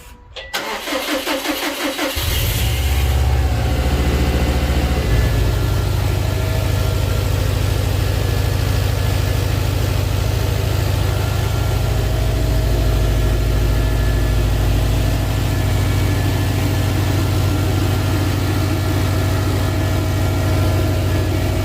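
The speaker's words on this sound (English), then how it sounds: "So it's gonna let it idle, get the temperature up to 180, 170" A car engine cranks and catches after green coolant is added to the radiator, then settles into a steady low idle that continues for the rest of the clip, close and loud.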